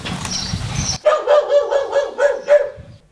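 A dog barks repeatedly in a quick rhythm of short, fairly loud barks, close by, following a brief stretch of background noise.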